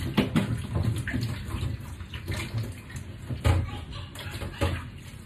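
Running purified water splashes and trickles steadily as guava is rinsed, with soft clatters and handling noises throughout.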